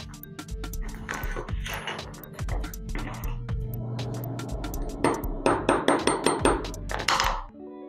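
Metal punch driving a small pin into a Rock Island Armory 1903 rifle's bolt assembly, heard as a run of sharp, close hammer taps that quicken into an evenly spaced series near the end, over low background hum.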